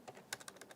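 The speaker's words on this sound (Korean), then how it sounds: "직접 타이핑 입력합시다." Quick, light keystrokes on a computer keyboard, about half a dozen soft clicks in an uneven rhythm, faint and close with a quiet room behind them.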